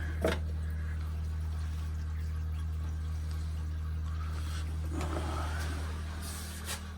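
Calcium reactor media drips and trickles into an aquarium protein skimmer over a constant low pump hum, with a few soft splashing bursts near the start and end.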